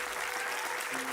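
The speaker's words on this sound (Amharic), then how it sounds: "አጨብጭቡ እስቲ ለራሳችሁ" An audience at a motivational talk claps for itself, a dense, even patter of many hands filling the room, brief and fairly soft.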